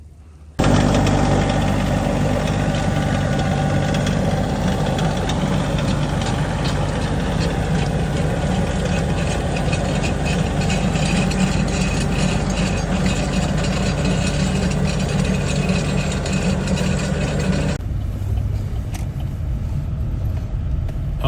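A Bobcat tractor engine idles for a long stretch, a loud, steady, low rumble close by, then cuts to a quieter background near the end.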